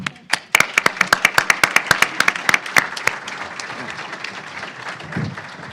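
Audience applause at a finance keynote: sharp, distinct claps from a modest crowd, loud at first and then thinning into scattered hand claps before fading out.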